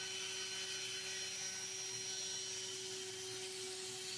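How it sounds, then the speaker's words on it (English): A flex shaft rotary tool runs at low speed for sanding opal by hand, giving a steady, even motor hum with a constant whine and no changes in pitch, close and alone. "I'm leaving it low because this is the first time I've used this machine. This is a flex shaft."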